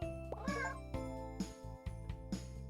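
A cartoon cat in a hidden-object cat video game gives several short meows over soft chiming game music, close and fairly quiet.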